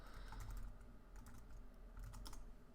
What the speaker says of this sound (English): Just let me type these in for a second.